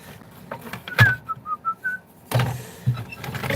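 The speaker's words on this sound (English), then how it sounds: "you're going to have to deal with me whistling as we go." A single person whistles a short melodic phrase, bright sustained notes rising and falling, with quiet thumps and shuffling handling noise before and after.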